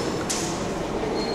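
Train pulling into Museum station in Sydney, with a loud, continuous rumble of an underground railway and a brief high squeal near the start.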